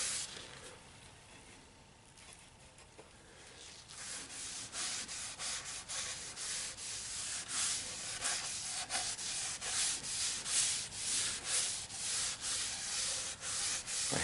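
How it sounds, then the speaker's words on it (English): A catalpa wood bowl is sanded on a spinning Nova lathe, giving a soft, faint, continuous rubbing hiss that swells and rises in intensity after a quiet start, heard alone without talk. "I have this sanded down to 220."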